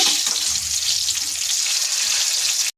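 Cut mirchi bajji, battered chili fritters, fry in hot oil with a loud, dense, continuous sizzle that holds steady until it cuts off abruptly.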